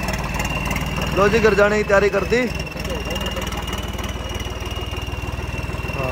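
A Swaraj tractor fitted with a turbo idles with a steady, throbbing mid-pitched engine drone and faint knocking, while people talk close by over it.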